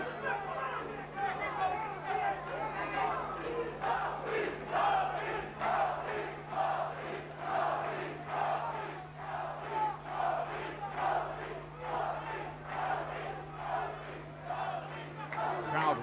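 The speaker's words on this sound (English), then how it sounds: "Crowd right behind Chanet." A boxing crowd cheering and shouting for Chanet during a fight, a continuous roar of voices swelling in waves, with a steady low hum running underneath.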